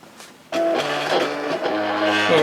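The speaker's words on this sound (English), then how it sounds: "Okay, so now I'm ready to send it on to my Silhouette so it can cut." A Silhouette Cameo cutting machine cutting printed Christmas labels starts abruptly with a steady mechanical whir and motor hum, its carriage shifting pitch in a few stepped changes, loud and close with no talking.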